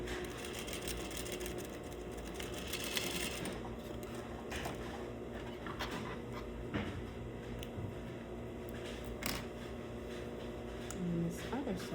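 A sewing machine stitches a half-inch seam allowance along a sleeve cuff edge, running steadily at close range with a few brief pauses and clicks, and a voice talks over it.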